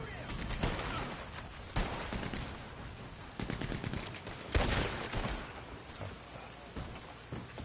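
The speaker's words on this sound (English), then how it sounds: "I got the Gatling gun" Rapid bursts of heavy gunfire in Red Dead Redemption 2, likely from a Gatling gun: several loud, dense rattling volleys separated by short pauses, close and harsh.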